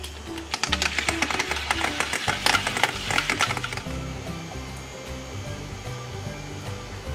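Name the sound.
blender blending grapes and water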